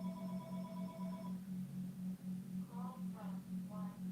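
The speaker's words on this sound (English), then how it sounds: "Sorry about the phone." A telephone ringing indoors in a pulsing electronic pattern, a steady buzzy repeating tone that stays faint in the background throughout.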